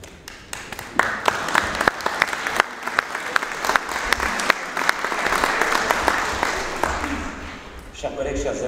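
A conference audience applauds its regional president at a welcome session, a dense sustained wash of clapping with sharp individual claps standing out, loud and continuous before tapering near the end.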